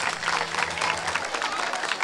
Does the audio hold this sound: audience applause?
yes